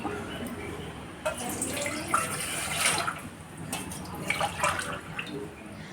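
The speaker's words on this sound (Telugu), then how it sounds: "అదిగో 2 గ్లాసుల పాలు కరెక్ట్గా ఎసరు పెట్టాను నేను." Two glasses of thick milk are poured into a cooking pot for a sweet coconut-milk dish, a splashing, trickling liquid sound with faint background voice.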